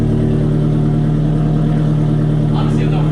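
Nissan S13 Silvia, a right-hand-drive car imported from Japan, revving with an exhaust leak; a steady loud engine drone holds close by for the whole stretch, with no speech over it.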